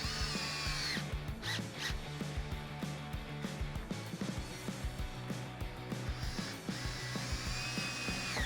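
A power drill drives screws into the bed of a 2004-2018 Ford F-150 while an Amp Research Bedxtender HD Max is fitted. The motor whirs in repeated short, close bursts, with clicks and brief pauses between screws.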